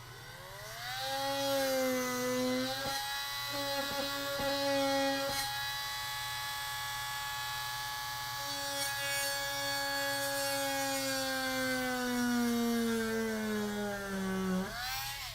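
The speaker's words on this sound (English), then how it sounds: "sometimes I'll hold it down on the desk and drill into it that way" A drill bores into an object held down on a desk, its motor giving a steady, close whine whose pitch sags gradually under load over about fourteen seconds before releasing at the end.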